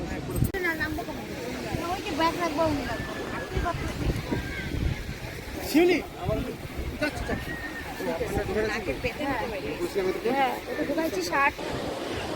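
Sea waves breaking on Puri beach, a steady wash of surf and wind noise heard up close beneath continuous chatter from people getting ready for a swim.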